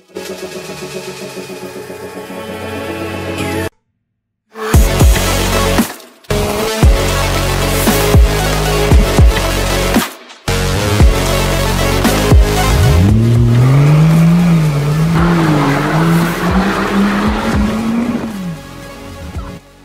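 A Rolls-Royce Wraith engine roars and revs loudly up close, cutting out briefly, then tires squeal in a long rising screech as it skids with failed brakes.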